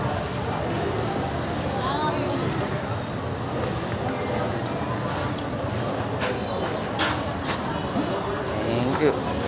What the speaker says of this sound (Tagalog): Ito ang LRT